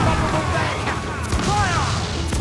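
Ship cannons firing in the pirate game Assassin's Creed IV Black Flag, loud booming blasts over a rumbling naval battle, with shouted voices among the chaos.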